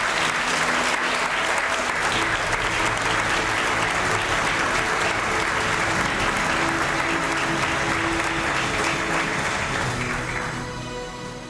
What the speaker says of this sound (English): a round of applause for our department heads